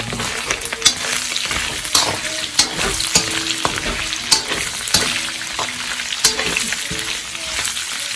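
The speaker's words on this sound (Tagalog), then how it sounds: "lagay na natin yung sibuyas" Onions sauté in a pan for Ilokano-style dinuguan, a steady close sizzle broken by regular clinking and scraping stir strokes roughly every half second; no talking.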